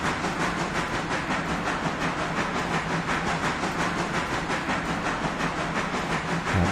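Train rounding a bend on the approach into Whittier, a steady, dense rumble with faint rhythmic clatter and hiss, continuous and fairly close throughout with no voices.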